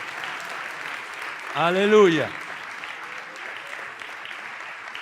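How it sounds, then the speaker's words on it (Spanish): A church congregation applauds steadily during a Spanish-language sermon, producing a continuous patter of clapping. A voice rises briefly over it with a drawn-out exclamation. "Dale un aplauso al Señor."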